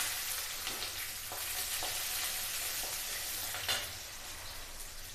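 Onions are added to hot oil with curry leaves and fenugreek seeds in a pan, giving a steady, quiet background sizzle with a few soft stirring knocks, and no voices.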